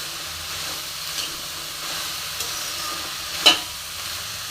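Vegetable biryani ingredients roast gently in a pan over a low gas flame, a steady close sizzle and hiss with a brief louder stir or scrape partway through, no voices.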